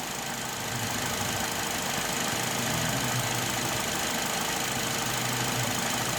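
A Suzuki Grand Vitara engine running with water injection fitted, a steady loud idle drone with a rough mechanical rattle, heard close up with no talking.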